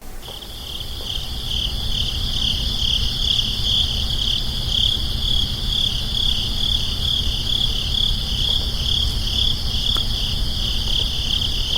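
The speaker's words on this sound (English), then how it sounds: "Yeah, crickets." Crickets chirp as a sound effect, a steady, continuous trill heard alone for the whole stretch.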